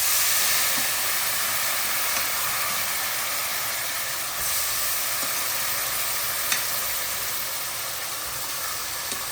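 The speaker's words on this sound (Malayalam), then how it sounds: "വെളിച്ചെണ്ണയിലേക്ക് കറിവേപ്പിലും മീറ്റ് മസാലയും ഇട്ടിട്ട് ഒന്ന് ജസ്റ്റ് വറുത്തിട്ട് ഇത് അതിലേക്ക് ഇടാം" Curry leaves and meat masala fry in hot coconut oil, giving a steady, even sizzle and hiss that runs without a break, close by and with no voices.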